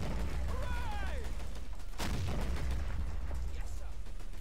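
Artillery shelling in the WWII strategy game Men of War on the Civil Canyon map, booming impacts and crackling gunfire rumble close behind a whistling shell and a speaking voice.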